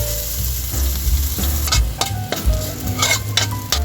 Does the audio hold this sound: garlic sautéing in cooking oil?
yes